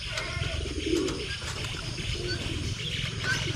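Pigeons coo softly, low throaty calls rising now and then over a steady outdoor background hum.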